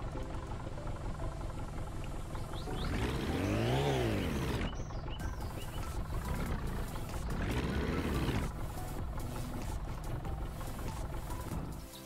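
A car engine running in My Summer Car, a steady low rumble that swells twice into rising and falling revs, with a brief dip between them, continuing throughout before fading at the end.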